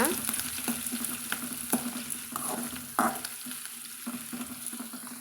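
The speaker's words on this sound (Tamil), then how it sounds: "சேர்த்துட்டு நம்ம இதை பொன்னிறமாக வதக்கலாங்க." Onion and curry leaves sauté in hot oil for beetroot poriyal, a steady close sizzle broken by repeated scraping stirs of a spatula against the pan.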